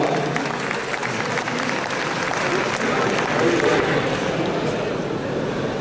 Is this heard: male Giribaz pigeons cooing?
no